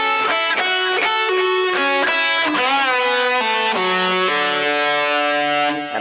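Distorted electric guitar plays a phrase, a bright sustained run of fretted notes with bends and slides, loud, close and continuous with no voice.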